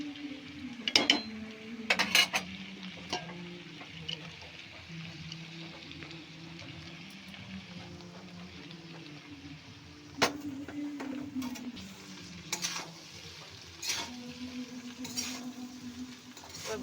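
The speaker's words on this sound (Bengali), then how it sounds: "ভাতটা হয়ে গেছে, এবার আমি ভাতটা একটু নাড়াচাড়া করে দেব, দিয়ে এইদিকে এবার আমি ভাতটা মিশিয়ে দেব।" Mixed fried rice stirred and scraped around a hot pan, with a steady low sizzle beneath clustered scrapes and knocks of the spatula. The scrapes come in close, irregular bursts.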